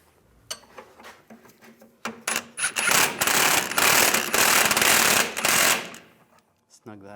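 A ratchet tightening a leaf spring shackle bolt on a 2007-2013 Chevrolet Silverado, first a few separate clicks, then a fast continuous ratcheting rattle lasting about three seconds, close and loud, ending with a brief voice.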